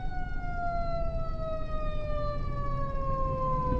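A loud ambulance siren wails on the road while passing, its tone gliding steadily downward over a rumbling traffic background, heard from inside a delivery vehicle.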